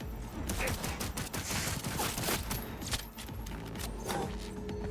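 Rapid bursts of gunfire from a Cyberpunk 2077 firefight crackle over a dense, noisy game mix, with overlapping volleys sustained throughout.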